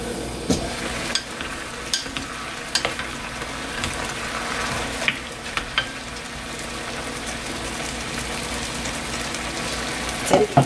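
King oyster mushrooms braise in a small amount of soy sauce broth, giving a steady low bubbling hiss with scattered soft clicks and taps of stirring across the whole stretch.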